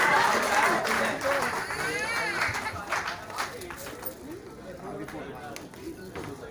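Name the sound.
crowd applause in welcome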